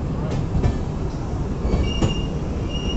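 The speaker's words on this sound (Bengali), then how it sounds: "ট্রেন ছেড়ে দিয়েছে" A night train pulls away from the station heading toward NJP, giving a loud, continuous rumble of wheels on rails with squealing tones and faint rhythmic clacks.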